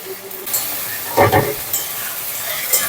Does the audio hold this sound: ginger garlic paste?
yes